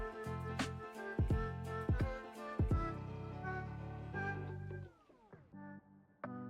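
Smokey the cat meows several times, close and clear, with drawn-out harmonic calls spaced across a quiet room and a final short chirp.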